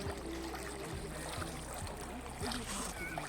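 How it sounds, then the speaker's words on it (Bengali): A boat's motor chugs steadily with regular low pulses on the Dawki-Umghat River in Meghalaya, water rushing alongside and faint voices in the background. "এখন আবার চলে যাচ্ছি বোটে"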